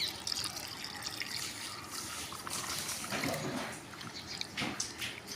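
Vallarai greens are swished and rinsed in water for dosa, making soft, uneven sloshing and trickling with a few louder splashes, fairly close and quiet.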